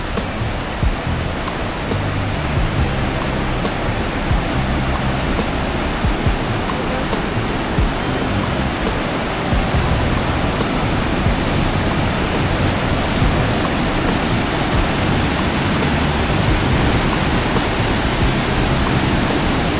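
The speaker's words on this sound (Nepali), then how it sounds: "अनि यो चाहिँ लाङटाङ नदी" The Langtang river rushing in the Himalayan valley of Langtang National Park, a loud, constant broadband roar of fast-flowing water with no pauses, heard alone without any talking.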